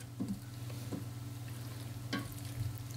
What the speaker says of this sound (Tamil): இந்த வெங்காயம், தக்காளி இதோடையே வந்து நம்ம சிக்கனை வதக்கி விட்டுக்குவோம்.